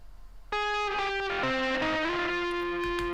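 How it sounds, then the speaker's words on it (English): A distorted electric guitar, with delay placed before the distortion, enters abruptly with a loud held note, its repeating echoes stacking and smearing into a thick, sustained wash. "cool distorted guitar tones: delay before distortion"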